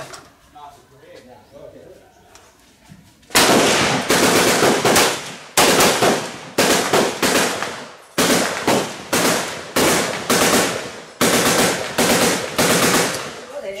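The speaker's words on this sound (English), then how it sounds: "They guarantee me this was an M2, but it's actually an M1, so it's only semi-auto" A semi-automatic M1 carbine fired at a shooting range in Cambodia: a quiet lead-in, then a rapid series of loud, sharp shots at a steady rhythm, each trailing off briefly before the next.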